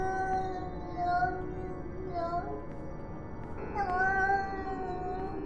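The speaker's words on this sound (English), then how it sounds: "I think that's a cat?" A cat meows repeatedly in the horror video game Yuppie Psycho, with several drawn-out mews rising and falling at a moderate, slightly distant level over a steady ambient game drone.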